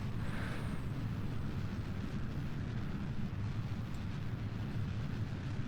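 A dense, continuous roaring rumble of a rocket engine firing in the game Kerbal Space Program, holding steady at constant loudness without pause.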